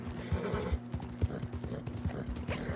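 Hooves of a horse in Red Dead Online clip-clop at a steady walking rhythm, close and clear over a low constant hum, with a faint whinny-like texture and no talk.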